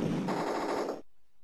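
Rapid automatic gunfire from the Amiga rail shooter Rollercoaster Rumbler, a dense, loud burst of shots lasting about a second before cutting off abruptly into near silence.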